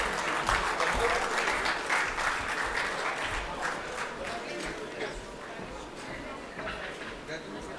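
Audience applause at a convention session, a sustained dense clapping from a large indoor crowd that stays steady and slowly eases in level, with some voices mixed in.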